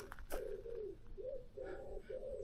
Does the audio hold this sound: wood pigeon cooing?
yes